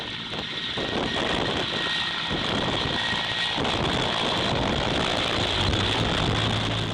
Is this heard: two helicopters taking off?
yes